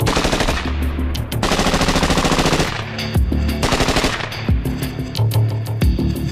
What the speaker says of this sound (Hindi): ये gas operated bull pump automatic weapon है जो 1 मिनट में करीब 700 राउंड फायर कर सकती है।